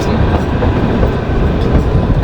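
Kalka–Shimla toy train running through a built-up area toward Dharampur, a steady loud rumble of wheels and carriage noise heard from the doorway, close and continuous with no talking.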